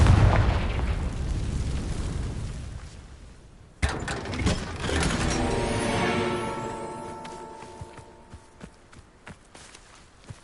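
A Confringo spell explosion in Hogwarts Legacy, with a sharp blast about a third of the way in followed by a long ringing, crackling decay, after earlier rumbling and footstep-like thuds.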